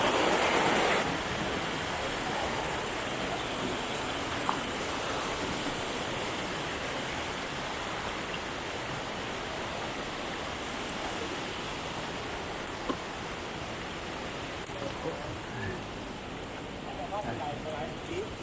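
Tadwimanthip waterfall pours continuously with a broad, steady roar of rushing water that fills the whole scene, close and unbroken, with only faint scattered sounds on top and no talking.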